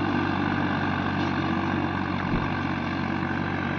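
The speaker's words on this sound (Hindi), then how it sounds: "ट्रैक्टर की बिल्कुल दम सा निकलने वाला हो रहा है, वो आवाज़ में आपको पता चल रहा होगा।" A Swaraj 855 tractor's heavy diesel engine runs steadily and loudly with a deep, labouring drone, sounding strained under load throughout while pulling a harrow.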